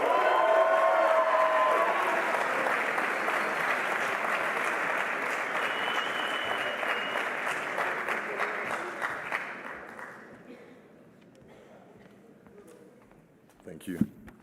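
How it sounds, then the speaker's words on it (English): A graduation-ceremony audience gives loud, sustained applause for a master's graduate, then fades after about ten seconds into scattered claps and a brief burst of noise. "please give a round of applause for Luca Ferrettini."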